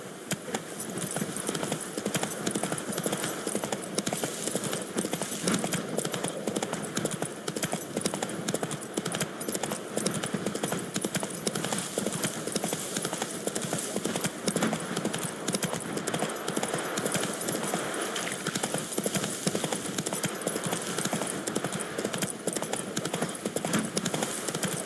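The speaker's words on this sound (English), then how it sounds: "Run, Roach." Roach, the horse in The Witcher 3, gallops in a continuous rapid clip-clop of hooves that stays loud and steady throughout, with occasional game sounds underneath.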